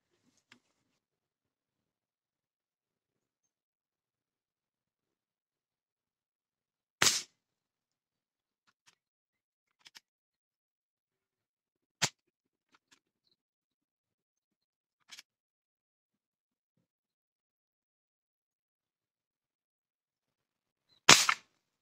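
Sharp, isolated cracks of a 5.5 mm air rifle firing, several separate shots spaced seconds apart amid near silence, with faint clicks between them.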